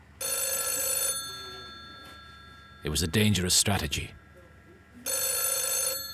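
An old telephone bell rings in two loud, sustained bursts separated by a pause, with someone speaking briefly between the rings.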